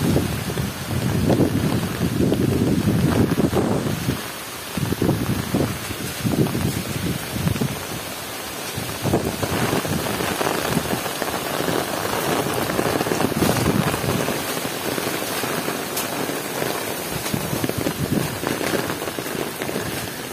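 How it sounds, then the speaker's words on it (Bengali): A storm of driving rain and gusty wind, loud and constant, with bursts of buffeting and a few brief lulls. "প্রচুর পরিমাণে ঝড় হচ্ছে।"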